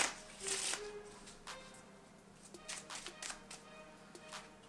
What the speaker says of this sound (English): I'll start by giving the deck a nice and thorough shuffle.